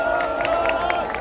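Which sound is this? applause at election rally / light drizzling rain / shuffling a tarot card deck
applause at election rally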